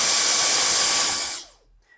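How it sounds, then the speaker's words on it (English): Power drill boring through the hard carbon sole shell of a cycling shoe, a steady loud whirring grind that holds for over a second before cutting off, followed by near silence. "Let the drill do the work, because again, if you push hard, as the drill bit goes through the harder carbon shell"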